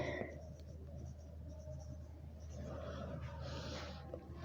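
Chalk or marker scratching across a board during an 8th-grade science lecture, a steady soft scraping over a constant low room hum, with no talk.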